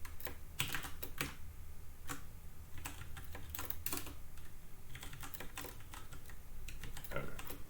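Computer keyboard keys clatter in irregular quick bursts and pauses as code is typed, close but fairly quiet, with no talking.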